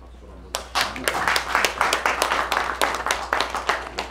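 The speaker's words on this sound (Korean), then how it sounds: "박수 한번" Applause from attendees at a political party leaders' meeting, a steady burst of many hands clapping that starts abruptly and continues at an even, fairly loud level.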